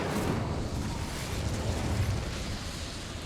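A fiery Incendio spell cast in the Hogwarts Legacy video game, heard as a loud, sustained whooshing roar of flame with deep rumbling body, steady and unbroken throughout with no talk.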